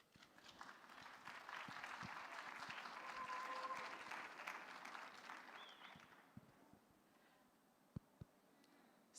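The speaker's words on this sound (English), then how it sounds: "a round of applause for them, please" A conference hall audience at a youth event applauds in a dense, steady wash that swells and then fades over several seconds, leaving scattered single claps near the end.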